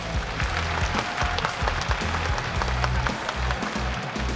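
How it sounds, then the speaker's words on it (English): An audience at the PUBG Mobile Star Challenge 2019 esports grand finals applauds, a dense steady wash of clapping at moderate loudness with music or low tones underneath. "Let's give our big round of applause to all of our challengers one more time."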